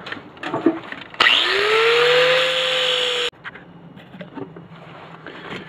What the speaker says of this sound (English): now we'll get the top of this one ground down so it's flat